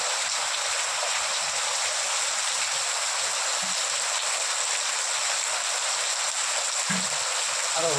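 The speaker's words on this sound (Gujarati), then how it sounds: "સારો વરસાદ પડે ભાઈ" Heavy rain pours down alongside rushing running water, forming a steady, loud broadband wash that holds without a break for the whole stretch.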